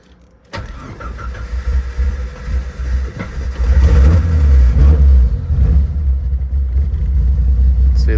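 Rough, uneven idle from a 1988 Jeep XJ engine, starting up with a thump and then running at a low, loping rumble that swells a little partway through, close and steady.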